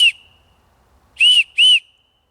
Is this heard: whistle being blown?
yes